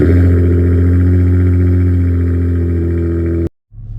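A 2023 Dodge Challenger SXT engine drones steadily and loudly for about three and a half seconds, then cuts off abruptly into near silence before a faint low rumble returns.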